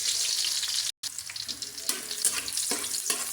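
Garlic sautéing in a hot pan for ginisang ampalaya with egg, a steady close sizzle and crackle with scraping stirs on top, cut off by one short silent break before the frying carries on.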